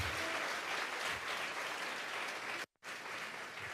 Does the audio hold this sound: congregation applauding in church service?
yes